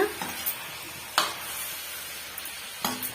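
Eggplant and dried fish curry is stirred in a pan, a soft background sizzle broken by about four brief scraping strokes of a spoon, fairly quiet and close.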